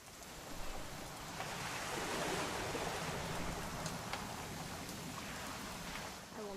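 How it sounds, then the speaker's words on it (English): Rain falls steadily in the game What Remains of Edith Finch, a soft continuous hiss with a few brief drips and taps, fairly quiet and without voices. "It's gonna rain the whole weekend,"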